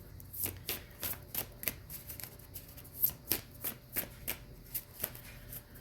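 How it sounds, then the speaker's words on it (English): Tarot cards being shuffled by hand, a run of crisp riffling snaps at an uneven rhythm, close and fairly quiet, with no talking. "your cards are shuffling so amazing"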